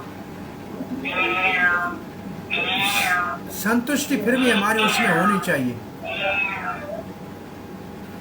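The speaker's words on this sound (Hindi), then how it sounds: "ये बिल्ली किसके घर में है?" A cat meows several times in a Vrindavan setting, its drawn-out calls rising clearly over someone talking calmly nearby.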